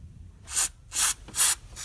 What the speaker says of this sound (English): Now comes the really fun part, where I blast this stuff with brake cleaner